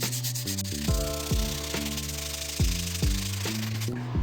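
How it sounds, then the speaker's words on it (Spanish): Hand sanding of a part with 120-grit sandpaper before a carbon fiber resin coating, steady rubbing strokes in a repeating rhythm, close and fairly loud, with a pitched tone running underneath. "es lijar toda la pieza, matizarla para que se abran los poros de la pieza"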